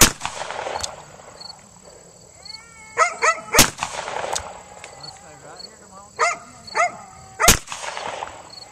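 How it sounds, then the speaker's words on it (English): Sharp single gunshots from a .357 revolver and a .45 semi-automatic pistol, about five loud cracks spaced irregularly, with a barking dog and people talking in between. "She's shooting the 357 and the 45 automatic semi-auto."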